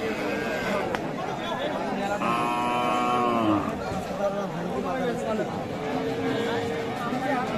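A local desi cow with her heifer calf lets out drawn-out moos at a busy cattle market, heard nearby over constant crowd chatter and bargaining voices.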